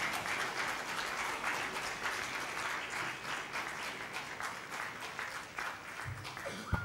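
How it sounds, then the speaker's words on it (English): Steady crowd applause fills an award moment at a hospital event as a lady is escorted up, with dense continuous clapping throughout and a brief low voice near the end. "Can we have a round of applause, please?"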